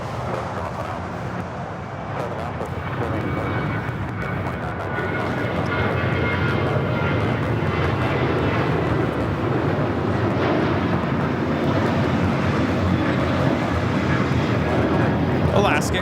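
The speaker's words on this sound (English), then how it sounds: "Alaska Airlines 1317 taking off to Laredo on the 737-900 ER." An Alaska Airlines Boeing 737-900ER takes off from LAX, its engine roar building and then holding as a loud, sustained rumble while people talk faintly underneath.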